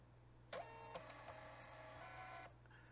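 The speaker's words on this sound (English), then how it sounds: "That noise that you heard was my Dymo printer printing out the label for the book." Dymo label printer feeding and printing a book label, a faint mechanical whir with a couple of clicks lasting about two seconds over a steady low hum.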